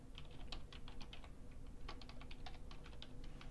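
Password typed on a computer keyboard, a quick irregular run of soft key clicks in two bursts over a low steady room hum, with no talk.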